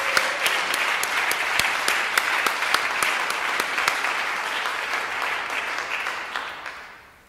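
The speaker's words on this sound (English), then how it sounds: "let's have a big applause for Eric" Sustained applause from an audience at the Plone Awards ceremony honoring Eric, steady dense clapping with a few sharper claps, holding level for about six seconds before fading out.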